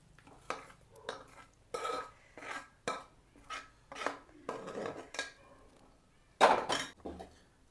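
A metal ladle stirring syrup into a flaxseed mixture in a pan: a rhythmic run of close, sharp metallic clinks and scrapes against the pan, ending in one louder knock.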